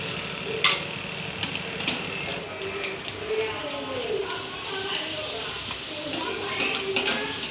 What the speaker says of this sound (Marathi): आता बाकीचे मी असेच तळून घेते